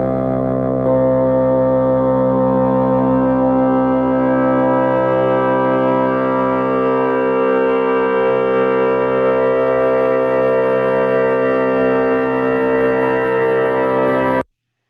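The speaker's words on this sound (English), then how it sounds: "It's a cheesy synthesizer sound." A cheesy, thin synthesizer tone sustains a stack of harmonic overtones above its fundamental, playing steadily and alone at fairly loud level for about fourteen seconds before cutting off abruptly.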